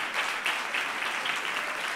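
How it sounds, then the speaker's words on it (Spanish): An audience at a children's reading contest claps steadily for two girls who did not take part, a dense even patter of many hands at moderate loudness and no voices on top. "un aplauso para ellas que no han participado"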